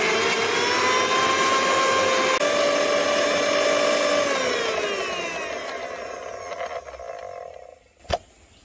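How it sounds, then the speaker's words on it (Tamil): A mixer grinder churning green chillies, mint and coriander into paste, a loud steady whirring grind that slows and winds down, then a sharp click near the end. "இப்போ இதெல்லாம் சேர்த்து நல்லா பட்டை அரைச்சிக்கலாம்."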